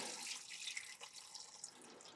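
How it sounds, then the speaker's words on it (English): Liquid poured into a slow cooker while making a stew, a faint, steady trickling and splashing stream with a few small drips, close by and quiet, with no voices. "Pour all the liquid in."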